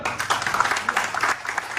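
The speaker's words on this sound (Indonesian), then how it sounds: "Tepuk tangan beliau." Brief clapping from a seminar audience for a speaker, a short, fairly close burst of many hands with an uneven, pulsing texture and no voices over it.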